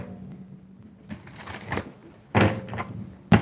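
A deck of playing cards is shuffled nearby in a few short, crisp riffling bursts separated by brief pauses, ending with a sharp tap.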